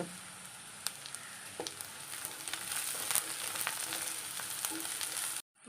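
Green chillies fry in hot oil in a pan for fish curry, a steady, close sizzle with faint crackles and pops that keeps going until it cuts off abruptly near the end.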